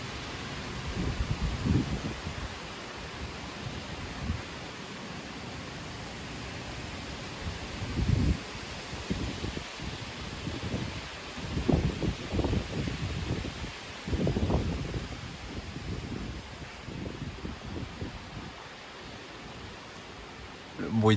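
Storm Aurore's gusts at 90-100 km/h in Amboise, heard as a constant roaring wind with heavy microphone buffeting that swells in several bursts, close and loud, while a person speaks intermittently.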